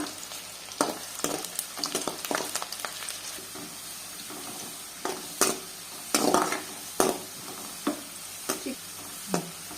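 Onions sizzle steadily in hot oil in a pan for a Telugu-style chicken fry, close up, with scattered clinks and scrapes of a stirring spoon against the metal and no talking.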